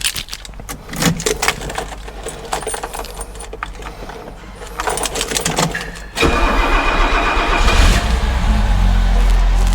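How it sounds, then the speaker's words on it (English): A 1969 classic right-hand-drive car with a 2.8 automatic engine cranks and fires up, light clicks and jangling giving way to a sudden loud start, then a steady, strong idle close by. "we'll just fire it up and let's see."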